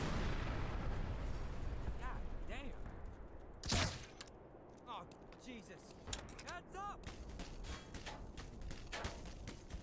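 Gunfire during a firefight in Black Mesa, a mix of heavy booming blasts and rapid shots in irregular bursts, with one sharp loud impact, while someone talks and exclaims over the action.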